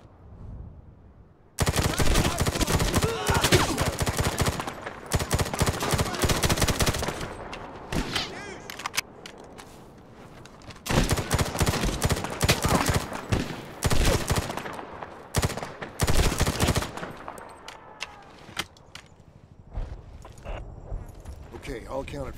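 Heavy gunfire in the Medal of Honor shooter: long, loud bursts of rapid automatic fire separated by short pauses and scattered single shots, with voices speaking intermittently through the quieter stretches.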